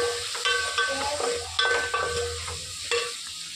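Green chillies sizzle in hot oil in a pan, with a steady frying hiss broken by several distinct scrapes and clinks of a spoon stirring against the metal.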